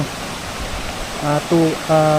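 Spring-fed water running from a river, a steady soft rushing hiss heard up close, with a voice speaking briefly over it toward the end.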